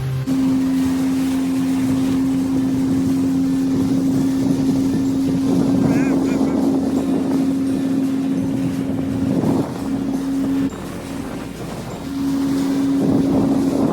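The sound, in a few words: shared motorboat speeding to Elephanta Beach, Havelock Island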